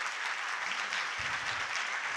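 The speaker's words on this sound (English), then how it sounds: "everybody give a round of applause for all the speakers." Conference audience clapping for the speakers, steady dense applause from a crowd, moderately distant and even throughout.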